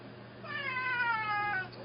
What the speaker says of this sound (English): Sorry, cat's nagging.